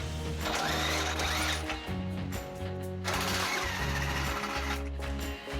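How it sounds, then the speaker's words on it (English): An impact wrench or similar power tool spins out trailer hitch mounting bolts on a Dodge Durango, a loud buzzing, ratcheting whir in several bursts with brief pauses between runs. "you can switch to a power tool and get the bolts out of there"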